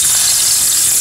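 Water poured from a kettle into a hot zinc pot gives a loud, steady broadband hiss and sizzle that lasts the whole moment, close up and with no voices.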